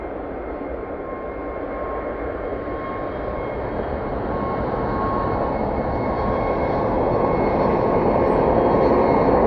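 A Wamos Air jet passes at Manchester Airport, its engine roar building steadily and growing louder over about ten seconds, heard at a good distance as a broad, continuous rumble with no talking.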